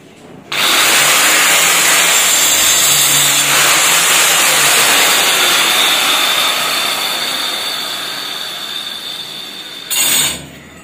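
A wall groove cutting machine slicing a channel into a wall for electrical wiring: a loud, steady high-pitched whine that starts abruptly, grinds on for about nine seconds, slowly easing, then cuts off before a brief final burst.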